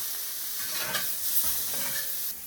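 Tofu frying in a pan, stirred briefly with a few soft scrapes over a steady close sizzle and hiss, no voices.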